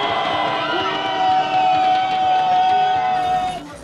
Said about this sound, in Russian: разогнавшихся гонщиков награждают овациями